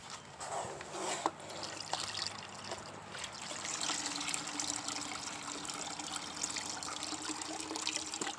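Organic liquid squeezed by hand through a burlap strainer into a bucket makes a steady close trickle and dribble that runs for several seconds, with a few small drips and splashes near the start.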